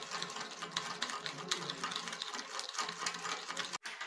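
Dalgona coffee being beaten into a thick cream makes a fast, steady whirring rattle of quick repeated strokes, fairly faint, with a brief dropout near the end and no speech.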